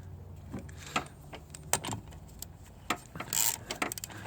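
Propeller nut being tightened by hand on an OMC Cobra sterndrive produces close, irregular metallic clicks, scrapes and rattles of the tool and hardware, with a slightly louder cluster of clinks near the end.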